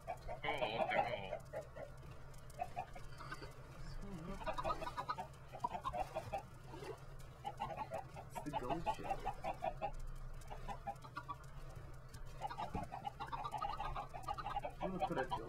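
Chickens in a Minecraft-style game cluck in short bursts scattered over a steady low hum and game ambience, with a brief spoken remark near the start.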